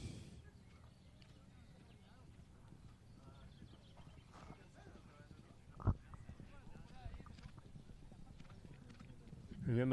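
Horses' hooves clip-clopping on the arena ground during an international horseball match, a steady busy patter of hoofbeats under continuous commentary and crowd noise, with a sharp knock partway through and a loud burst at the end.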